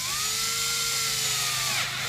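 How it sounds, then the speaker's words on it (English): A sharp drill bit bores a hole through material on a workbench while making a knife sheath, a steady whining drill tone held for about two seconds with rising pitch, close and continuous. "If you have a very sharp drill bit like this one,"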